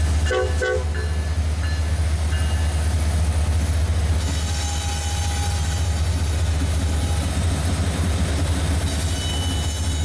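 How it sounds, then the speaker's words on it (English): A Union Pacific manifest freight train eases slowly past on Kansas City Southern track near Hollywood Yard, giving a loud, steady rumble of cars and wheels with a brief horn toot near the start. "Here we see a UP manifest that just got the clear into Hollywood Yard slowly ease by"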